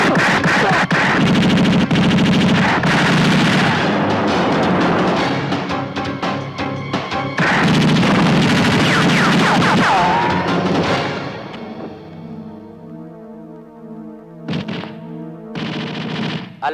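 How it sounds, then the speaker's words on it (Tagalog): Loud, sustained automatic gunfire in an action film shootout, dense rapid bursts with heavy impacts for about ten seconds, then easing into quieter scattered shots and a couple of closing blasts. "kaya sila ay binaril ni Major Durango"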